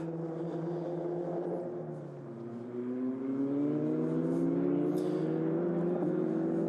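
Formula Regional European Championship single-seater race cars on track at Barcelona, a loud sustained engine whine rising steadily in pitch as the cars accelerate, with several engine notes overlapping and no one talking.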